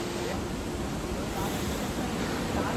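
Steady, loud broadband roar from a tall waterfall reached on a trek, continuous and close, with wind buffeting the microphone and no audible talk.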